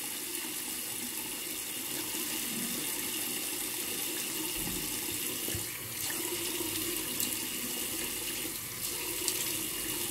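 Water runs steadily from a tap into a sink, wetting a brush to whip up Trafit shaving cream; a constant close rushing flow with small splashes and no speech.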